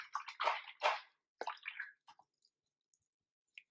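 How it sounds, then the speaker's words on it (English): A paintbrush is rinsed in water after watercolor painting, giving a few close, wet swishing bursts followed by faint, sparse drips and quiet. "Rinsed out my brush."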